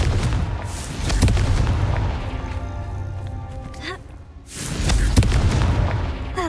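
Confringo spell blasts in Hogwarts Legacy, heavy booming explosions that rise twice with a rumbling tail between them. The second burst is loud and close after a brief lull.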